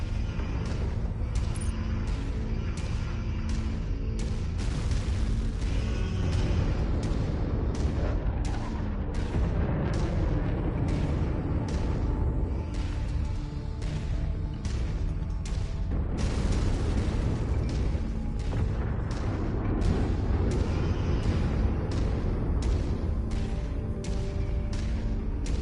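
Heavy weapon fire in the mech combat game MechWarrior 5: Mercenaries, with dense, near-continuous booming blasts and sharp bursts repeating rapidly over a loud rumbling base, with no voices in the clip.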